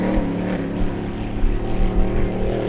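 Racing powerboat engine running at a district powerboat club meet at Glenmaggie, a loud steady throaty drone with a slightly fluctuating rumble, heard alone and close.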